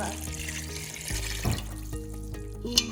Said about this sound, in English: Next, we need 1 cup of warm water. It's 2 cups actually. 2 cups warm water.